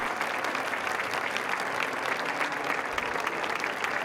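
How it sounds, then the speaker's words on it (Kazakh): A concert audience at a classical music festival in Casal Velino applauds after a violin piece, with steady, even clapping from a large crowd continuing throughout at a moderate distance. "ду қол шапалақ құлақ тұндырды"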